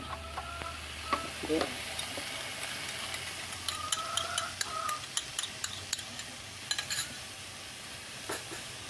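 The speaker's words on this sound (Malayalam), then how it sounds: "നമുക്കിനി ഇതിലേക്ക് നമ്മൾ മുട്ട ഒഴിച്ചു കൊടുക്കാം" Egg poured into a pan of partly cooked spinach for cheera mutta thoran and frying there: a soft steady sizzle under frequent sharp spatula taps and scrapes against the pan, in irregular bursts.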